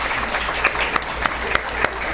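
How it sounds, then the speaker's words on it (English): A pub audience at the Kings Head claps briefly for a performer, a short burst of mixed hand claps at moderate distance, with a few sharper individual claps standing out. "Round of applause for Erin."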